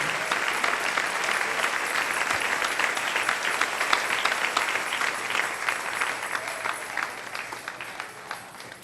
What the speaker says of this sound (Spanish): Denle ese aplauso al Rey en esta hermosa mañana.